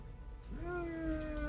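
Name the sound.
person imitating a cat meow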